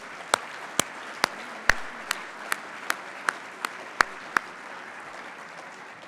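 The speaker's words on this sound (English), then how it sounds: "Let's give a round of applause to everybody." Sparse, separate claps ring out one at a time in a slow, irregular rhythm against a quiet room, sounding more like a few hands than a full crowd.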